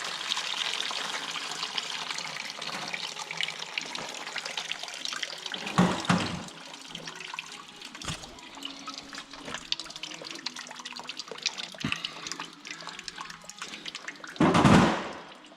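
Rust-coloured coolant drains from an MK2 Escort in a steady, close trickle and pour, broken by a couple of louder splashing gushes and small knocks, with no talking.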